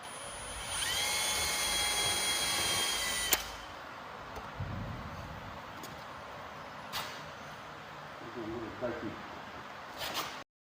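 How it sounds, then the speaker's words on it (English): A small drill bores a hole in the bottom of an aircraft air filter, a steady high whine for about three seconds, then quieter tool handling and clicks with a voice speaking faintly underneath. "we're going to drill a small hole in the bottom and then safety wire the air filter to the actual aircraft"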